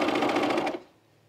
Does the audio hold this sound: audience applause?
no